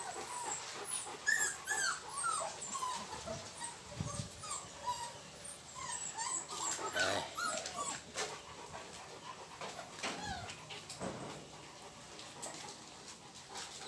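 Rottweiler puppies whimper, yip and pant close by, a restless run of high whines and short cries over nearly fourteen seconds with no speech.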